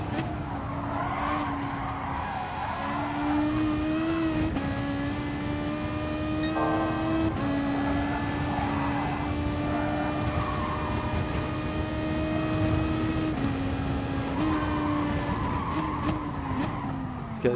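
A racing car's engine in a time trial of a racing game, holding a loud steady drone with shifting pitch and tyres skidding through corners, constant for the whole stretch with no talking.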